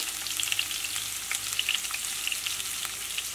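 Green chillies and onions fry in a pan with a bright, steady sizzle and scattered crisp pops, close and fairly loud, with no one talking over it.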